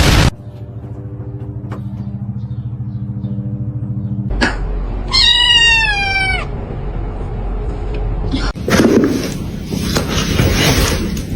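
A cat meows once in a rising, wavering cry, loud and near, between stretches of low rumbling background noise.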